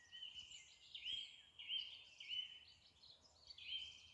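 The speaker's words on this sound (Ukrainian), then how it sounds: "А ну послухайте, як співають пташки." Faint birdsong drifts in from a small nearby forest, repeated high warbling phrases rising and falling over quiet outdoor stillness.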